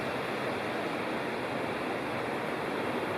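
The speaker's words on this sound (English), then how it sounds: "Oh, there's Angel Falls." Angel Falls, a waterfall in Big South Fork, pours with a steady, dense broadband roar that holds constant throughout, alone with no voices.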